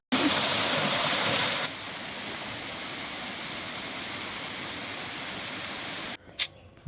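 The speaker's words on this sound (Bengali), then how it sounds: "তোমাদের অরিজিনাল সাউন্ড শোনাই এই ঝর্ণার।" A waterfall at Samalbong in North Bengal roars in a steady, loud, broadband rush that drops slightly in level partway through, then cuts off near the end, leaving a few brief faint sounds.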